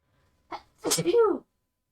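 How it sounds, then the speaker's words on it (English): A single close, loud human sneeze in a quiet room, with a short sharp intake first and then the burst tailing off in a voiced sound. "I feel like I gotta sneeze"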